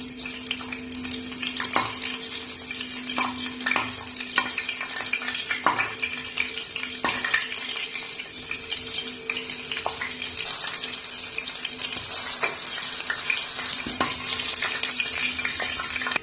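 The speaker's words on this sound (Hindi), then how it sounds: "अब ये अचारी दाल में जाएगा ये जीरे वाला और सब्जी मिर्च का तड़का इस तरह से" Hot oil with cumin and chili sizzles and crackles steadily as a tempering is poured into achari chana dal, with occasional clinks of a utensil against the pot.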